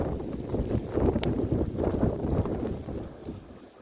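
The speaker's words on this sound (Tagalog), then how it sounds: "it's so windy" Strong wind in a winter storm in Canada roars steadily as buffeting microphone rumble, loud and continuous for a few seconds with no voices.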